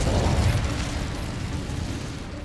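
In Hogwarts Legacy, an Incendio fire spell bursts with a loud, whooshing blast that decays into a crackling, roaring rumble with no voices.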